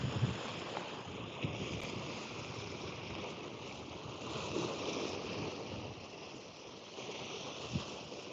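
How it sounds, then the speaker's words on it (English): Sea waves wash at the seaside in St Cast, Brittany, heard as a soft, continuous rushing surf with faint swells and light wind noise, calm and fairly distant. "You can hear the noise of the sea."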